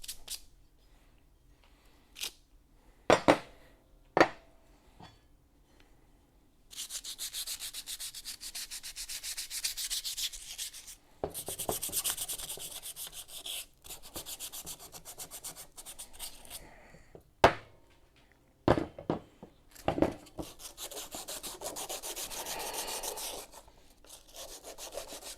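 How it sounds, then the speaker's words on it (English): Metal parts are scuffed to remove rust before painting in a garage, bursts of gritty rubbing and sanding strokes between louder knocks and handling thumps, no talk. "I'm getting the rust off, RJ, so we can paint them. You just need to scuff it up a little bit"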